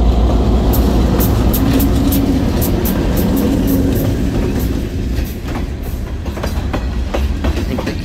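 A loud train rumbles past on the tracks, steady and close, with rhythmic clacking of wheels over rail joints.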